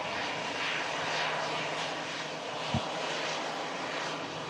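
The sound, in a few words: Aer Lingus airliner arriving from Dublin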